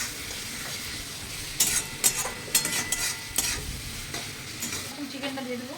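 Spices, onion and tomato fry in a pan under a continuous sizzle, punctuated by sharp scraping and clinking strokes of a utensil stirring against the pan.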